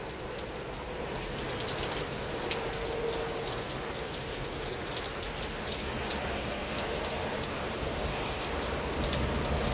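Heavy rain falls steadily during a severe thunderstorm in Stockbridge, Henry County, Georgia, a dense continuous hiss of drops on surfaces with no pauses and no voices.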